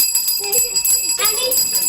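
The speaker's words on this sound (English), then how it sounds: "will you give that bell to me?" A hand bell rings on a hospital ward, bright metallic tones sounding repeatedly at moderate loudness while voices speak over it.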